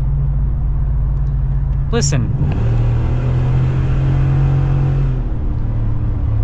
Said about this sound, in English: We'll slow down here quite a bit so you guys can get a little bit more of this exhaust.